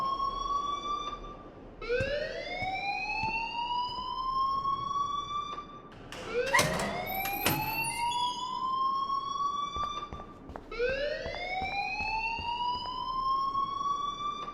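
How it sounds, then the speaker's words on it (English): A school alarm in the video game Life is Strange wails in repeated rising sweeps, each climbing in pitch for a few seconds, with a brief clattering burst between cycles. "please turn off that alarm since that's your job"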